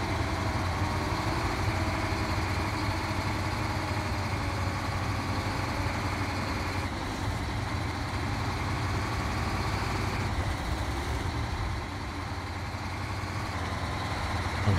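A truck engine runs in the SnowRunner video game, a steady low rumbling drone holding at a constant level with no talking.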